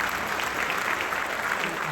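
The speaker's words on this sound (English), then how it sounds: "I think they all deserve a round of applause individually." Audience applause at a Newcastle United board fan meeting, a brief steady patter of clapping from a moderate-sized crowd.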